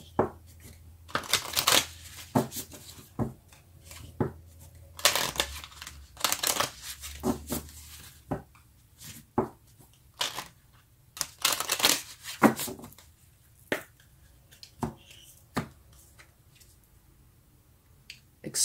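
Tarot cards being shuffled and handled for a reading, with repeated crisp riffles and taps in irregular bursts, close and fairly quiet, with no talking.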